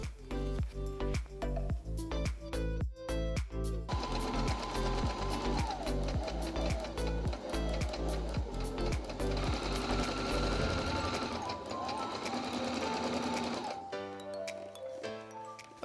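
A sewing machine stitches a dart in fabric, running in steady continuous bursts with rhythmic needle pulses, loud and close, with no talking.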